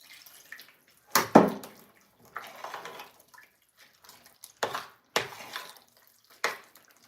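Water from a tap splashing in short bursts while water is added to kimchi pancake batter in a home kitchen, quiet and close, with brief louder gushes between softer trickles and no talk.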